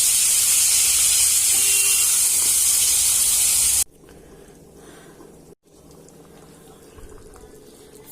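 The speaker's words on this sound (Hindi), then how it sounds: "इसीलिए दोनों में ही फिश फ्राई कर रही हूँ" Fish pieces frying in oil in two pans give a loud, dense sizzle for about four seconds, then the sound cuts to a much quieter, muffled background.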